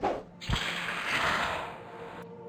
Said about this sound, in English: So that's what that elevator is.